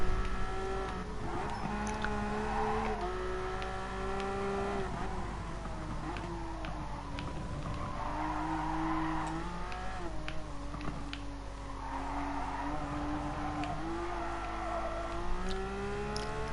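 A Porsche Cup race car in GT Sport howls through rising and falling engine revs as it shifts gears, with tire squeal and other cars close by, loud and continuous with no talk.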